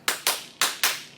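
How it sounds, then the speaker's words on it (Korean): Five sharp hand claps in a quick rhythm, two close together, a pause, then two more and a final one starting, from a group of children during a youth environmental education session; loud, with no talk. "여러분들이 따라 할 수 있는 박수 한번 쳐보도록 할게요"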